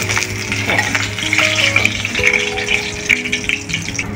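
Hot oil sizzles steadily in a pan on a home kitchen stove, a dense continuous hiss with scattered crackles and a few faint tonal hums, and no talking.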